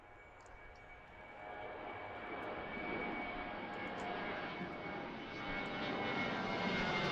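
A jet airplane taking off at Washington Reagan National Airport, a broad engine roar with steady whining tones that swells gradually louder over several seconds, heard alone and close.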